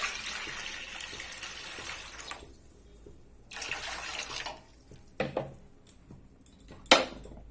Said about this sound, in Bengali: কড়াইয়ে জল দিয়ে দিচ্ছি।